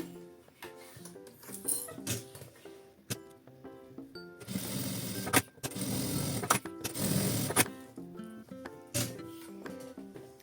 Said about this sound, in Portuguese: eu já passo uma costura de segurança para prender o meu bolso na minha bolsinha